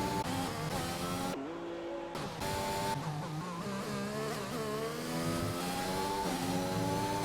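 A race car engine in an Xbox racing game at the Bahrain circuit revs and accelerates in a loud, buzzing whine. Its pitch climbs and drops through gear changes, and it briefly dips once as the throttle lifts, with no voices.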